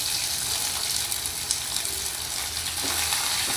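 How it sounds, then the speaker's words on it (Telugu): Onions frying in a pan for a carrot fry produce a steady, loud, close sizzle that holds evenly throughout, with no speech and no other sounds standing out. "ఉల్లిపాయలు కూడా బాగా ఫ్రై అవ్వాలి."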